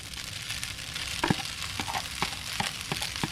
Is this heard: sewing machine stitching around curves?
no